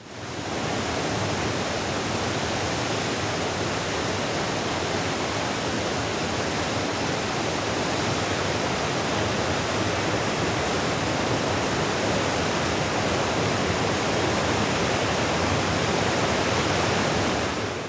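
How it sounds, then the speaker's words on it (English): A spectacular waterfall near Carnarvon roars as a loud, dense, unbroken rush of falling water that holds steady for the whole stretch. "Piper discovered a waterfall even more spectacular than Gordale Scar, Pistol Raider"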